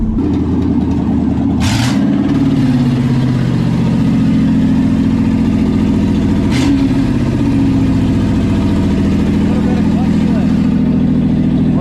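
A 1972 Chevrolet K20 4x4 pickup, running again after sitting for 15 years, rumbles steadily at close range with a low engine drone and brief revs, while people talk over it.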